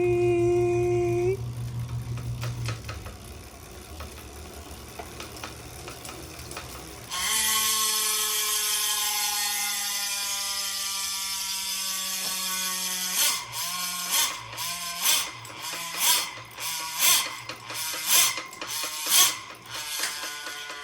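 Revolve Rapide CLX3 bicycle wheels with a freehub ratchet buzz in rapid clicking, first a steady whirring drone, then bursts of loud pulsing clicks as the wheel is spun and coasts, close up with no talking.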